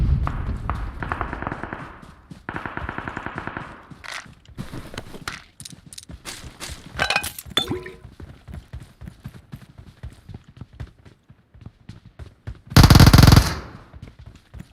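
Rapid automatic gunfire from a video game fires in dense, irregular bursts across the clip, with a sharp, loud volley near the end.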